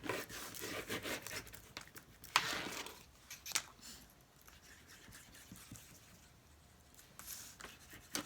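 Paper being folded and pressed while making a crisscross craft box with a double pocket: soft crinkles and a few sharper creasing taps, quiet and close, with no one speaking.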